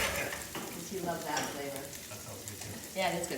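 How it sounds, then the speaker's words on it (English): Onions sizzle and crackle steadily in butter in a pan while people chat casually over the frying. "So we just want to get these onions to kind of, they're nicely sizzling away."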